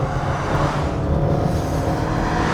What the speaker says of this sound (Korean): 토요타 RAV4와 함께 가볍게 달려보겠습니다